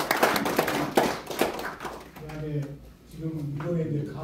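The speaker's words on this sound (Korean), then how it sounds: "그럼 박수로 환영해 주시기 바랍니다" Audience clapping in welcome at an anniversary gathering, several seconds of close applause that fades into a voice talking.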